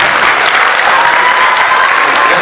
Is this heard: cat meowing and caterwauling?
no